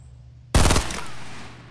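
A single close, loud burst of gunfire in the Fortnite Battle Royale video game, with a sharp onset, a rapid rattle of a few shots and a fading reverberant tail, and no voices.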